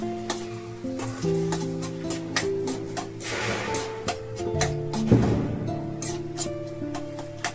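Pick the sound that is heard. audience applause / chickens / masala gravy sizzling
masala gravy sizzling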